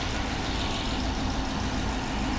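A steady engine hum runs throughout, a constant low rumble without change in pitch, close by and unaccompanied by voices.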